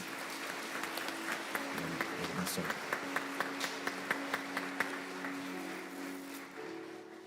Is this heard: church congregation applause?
yes